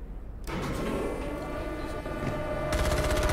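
Gunfire in the IGI 2 video game: sustained rapid automatic fire that starts abruptly after a brief lead-in, loud and continuous, then intensifies near the end.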